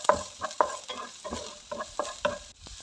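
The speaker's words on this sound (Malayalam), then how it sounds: "ഒരു 4 അല്ലി വെളുത്തുള്ളി ചെറുതായിട്ട് അരിഞ്ഞതും, പിന്നെ 1/4 സവാള അത് ചെറുതായിട്ട് അരിഞ്ഞതും കൂടി ഇട്ട് നമുക്ക് ചെറുതായിട്ടൊന്ന് വാട്ടിയെടുത്താൽ മതി" Chopped garlic and a little sliced onion sautéing in oil in a pan, with repeated stirring scrapes and soft sizzling at a steady rhythm, close and moderately quiet, no talk.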